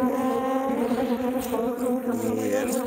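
Steady honey bee buzzing close to the microphone, a dense continuous drone of many bees with slight fluctuations throughout, bees hitting the microphone.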